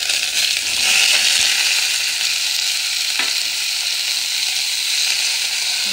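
Chopped ivy gourd with curry leaves crackles in hot ghee, a dense continuous sizzle heard up close, broken briefly by a single spatula scrape partway through.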